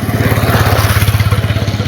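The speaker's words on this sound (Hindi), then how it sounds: "कुछ लोग देखो बाइक से आ रहे जा रहे भाई" A motorcycle putters past close by on a cold, dewy early-morning rural road, its rapid, even engine pulses loud and steady throughout.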